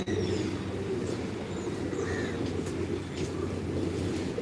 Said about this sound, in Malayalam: എൻ്റെ അടുത്തേക്ക് രണ്ട് മൂന്ന് പ്രാവുകൾ വന്നിട്ടുണ്ട്